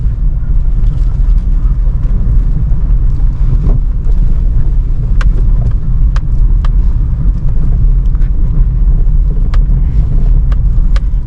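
A car creeps slowly over a broken, off-road stretch of city street, its low engine rumble steady with scattered knocks and clunks from the rough surface, heard close with some wind noise and no talk.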